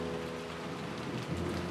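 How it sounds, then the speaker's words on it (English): Heavy rain pours in a rose garden as a dense, steady downpour hisses continuously, with a faint tonal hum running underneath. "And it was raining this hard, too."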